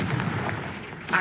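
Confringo spell cast in Hogwarts Legacy, a short booming blast with a rumbling tail and a second sharp burst at the end, loud and brief with no voices.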